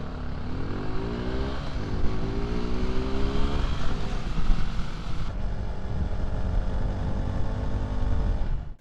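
A Suzuki Gixxer 250 motorcycle engine drones steadily while being ridden, its rising then settling harmonic pitch tracking changes in revs, with wind rush over the microphone throughout.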